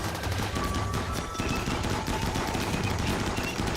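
Raiders open fire in the Rimworld colony-building game, a dense, continuous clatter of overlapping gunshots and bursts that stays loud and steady throughout, with no talking.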